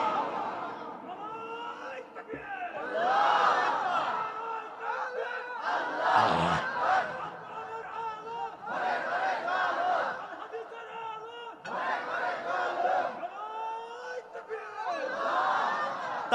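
A crowd at an Islamic mahfil gathering in Sirajganj, Bangladesh, roaring in reply to a takbir call, several loud chanted waves of many voices rising and falling, with some chatter between them.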